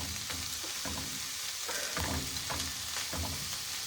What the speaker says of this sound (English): I'm going to add the mushrooms in